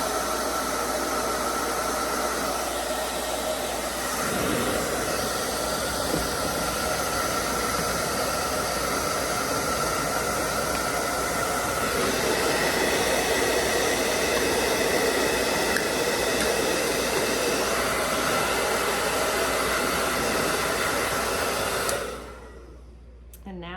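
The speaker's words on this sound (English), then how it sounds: "we're gonna get our blow dryer out and heat these up to shrink them around here" A blow dryer runs on its highest setting to heat and shrink wrap, giving a loud, steady airy roar for about twenty seconds before cutting off abruptly.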